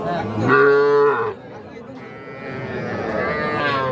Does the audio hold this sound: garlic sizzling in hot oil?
no